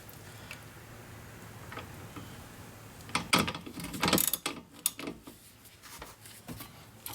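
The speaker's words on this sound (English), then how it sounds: "Now we will tighten those two down." A ratchet tightening the rear wheel bearing bolts on a Mini Cooper, heard as close, rapid clicking bursts with metallic clatter in between, growing louder partway through.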